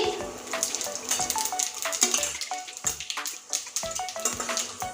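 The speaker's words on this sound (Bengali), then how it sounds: "ফোড়নটা লাল করে ভেজে নেবো এখানে আছে জিরে ফরম দিয়ে দিচ্ছি" Cumin seeds and whole spices with dried red chillies sizzling in hot oil in a home kitchen pan, a steady close crackle with bright popping spits scattered throughout.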